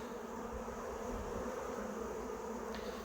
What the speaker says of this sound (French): on va surtout voir si les abeilles rentrent à la ruche